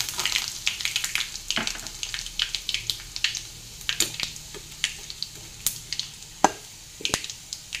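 Asafoetida and finely chopped garlic sizzling in hot oil over low heat while making a Maharashtrian val usal, a steady crackling fry broken by sharp pops and spoon clinks, no voices.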